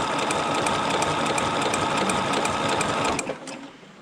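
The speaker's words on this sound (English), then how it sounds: "now I'm going to sew back to the left" A sewing machine stitches fabric in a fast, even mechanical whir, close and steady, then slows and stops near the end.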